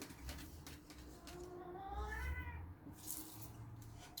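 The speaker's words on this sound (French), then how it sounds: "Si monsieur le chat parle derrière, c'est pas grave" A cat meows in the background, a drawn-out rising and falling call lasting a couple of seconds, quiet and somewhat distant against low room noise.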